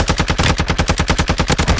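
Rapid automatic gunfire in a Call of Duty video game, a loud close burst of evenly spaced shots at a fast, steady rhythm, with no pauses.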